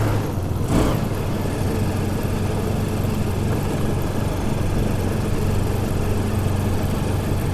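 A motorbike engine drones steadily while riding across beach sand at Cox's Bazar, a continuous close hum with one brief louder rush near the start, no talk over it.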